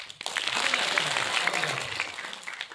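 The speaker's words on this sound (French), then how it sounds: "il faut l'applaudir plus fort que ça" A young audience at a children's guitar show claps steadily, a dense, moderately loud wash of applause that holds throughout, with faint voices underneath.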